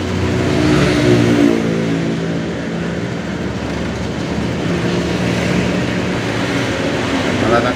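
A Honda motorcycle engine revs close by in a workshop, a steady loud roar with slight swells in pitch as the throttle is adjusted.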